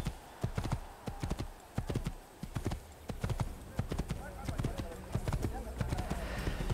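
Steady clip-clop of horse hooves at a walking pace in the video game Assassin's Creed, close and fairly loud, with talk over it.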